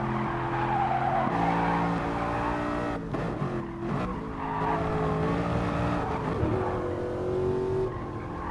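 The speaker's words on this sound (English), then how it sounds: "Feel his tyres struggling to get through the corner." Tyres squeal through a corner in a racing video game, a sustained shrill screech over a droning, revving race-car engine, easing and returning as the car fights for grip.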